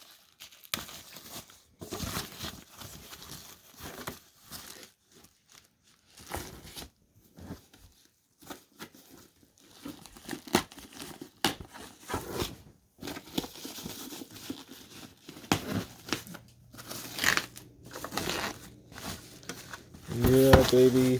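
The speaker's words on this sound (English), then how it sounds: "Get the wires. Let me unwrap this." Xbox Series X console packaging is unwrapped with scattered crinkling, tearing and rustling bursts, some handling knocks, and a voice speaking briefly near the end.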